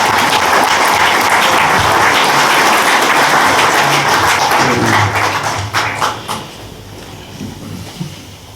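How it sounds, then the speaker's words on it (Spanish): Conference audience applauds General Cárdenas at a talk about leaving Guinea, with loud sustained clapping that thins out into scattered claps and a few thumps before dying away. "Le damos un aplauso al general Cárdenas."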